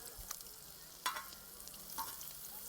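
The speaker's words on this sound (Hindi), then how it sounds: "तो ऐसे ही सारा पनीर हम भून लेते हैं।" Paneer pieces fry quietly in a pan with a soft, constant sizzle, and a few light clinks and scrapes of a utensil stirring cut through it.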